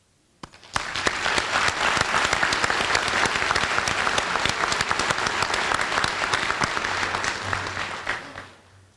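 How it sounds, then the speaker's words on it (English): An audience at a fire department recruit class graduation ceremony bursts into loud, dense applause that starts abruptly, holds steady for several seconds, then tapers off at the end. "I think the class owes you a round of applause"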